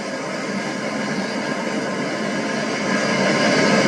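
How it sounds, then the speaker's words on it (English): Union Pacific 3985, a coal-burning steam locomotive, pulls a heavy freight through a tunnel at about 25 miles per hour, a loud, steady, enclosed rumble and roar that swells slightly toward the end. "the engine blasts through the tunnel at 25 miles per hour"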